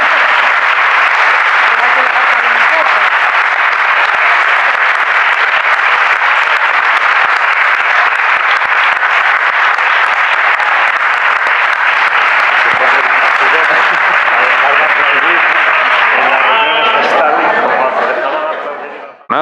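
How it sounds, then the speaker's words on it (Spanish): Audience at the close of a session on women's struggle applauding one another, a dense, steady wash of clapping that fills the room nearly continuously before tapering off at the end, with some voices mixed in. "Y nos aplaudimos un poco entre todos."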